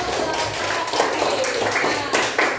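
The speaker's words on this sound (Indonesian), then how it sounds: "beri tepuk tangan untuk" Classroom audience applauding a student group after their presentation, a dense steady patter of clapping filling the whole moment with voices mixed in.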